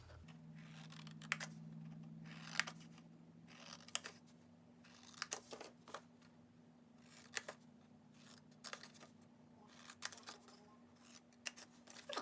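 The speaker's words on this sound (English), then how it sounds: "So right now we're just going to cut up all of these tab lines." Scissors snip through paper along the tab lines of a handmade Christmas tag box, a series of short crisp cuts spaced about a second apart over a steady low hum, close and moderately quiet.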